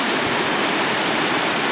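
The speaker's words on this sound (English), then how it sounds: "looking down at the rushing river" A river swollen with spring snowmelt near Kincardine rushes steadily in a dense, unbroken roar, loud and close, with no pauses or voices.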